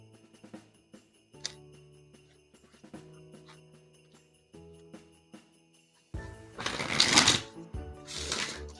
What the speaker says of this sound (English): I'm going to get the deck all shuffled.